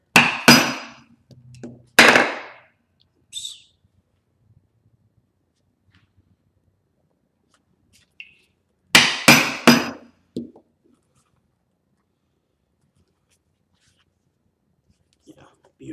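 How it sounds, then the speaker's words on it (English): An 8-prong stitching chisel, 8 stitches per inch, is struck through wallet leather on a workbench, giving a few sharp, loud hammer blows in two separated bursts, with a voice murmuring briefly between them. "I'll keep going with my 8 stitches per inch, 8 prong chisel here."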